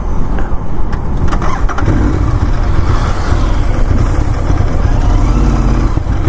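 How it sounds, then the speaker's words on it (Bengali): A Royal Enfield Continental GT 650, out of fuel, cranks repeatedly and fails to start, giving a steady loud churning engine noise close by with no catch or idle. "হ্যাঁ দেখো গাইস স্টার্ট নিচ্ছে না"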